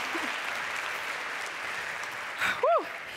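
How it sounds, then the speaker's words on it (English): Audience applause at a mainstage conference session, a steady wash of clapping from a crowd throughout, with a brief voice and laughter rising near the end. "that deserves another round of applause"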